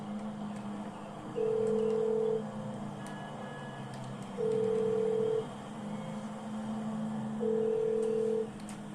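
Three touch-tone telephone keypad beeps, each lasting about a second and evenly spaced, ring out clearly over a quiet background with no speech.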